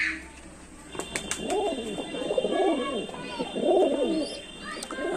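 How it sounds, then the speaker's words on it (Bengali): Teddy pigeons coo in soft, rolling, repeated calls, several overlapping coos close by, with faint chirps and light clicks in the background. "আর এগুলো টেডি পায়রা, দেখতে পাচ্ছেন।"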